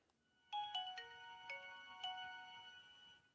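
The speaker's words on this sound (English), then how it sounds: "only the best Nokia phones have that boot up sound" A short melodic Nokia phone startup chime plays, a few bright tones stepping in sequence and ringing out, clear and close in a quiet room.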